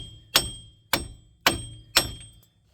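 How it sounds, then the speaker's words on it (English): Four loud, separate metal whacks from a sledgehammer striking a seized wheel hub assembly on a 2005 Saturn Ion, evenly spaced about half a second apart. Each hit rings briefly and decays before the next, with no talking. "we're gonna have to give it a couple good whacks with the sledgehammer."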